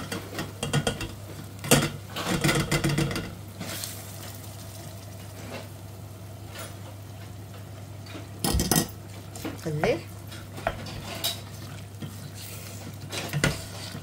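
Chicken frying with onion in a pan while being stirred, metal utensil scrapes and clinks in bursts over a faint low sizzle, with quiet gaps between.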